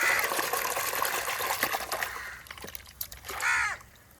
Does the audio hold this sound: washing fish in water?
yes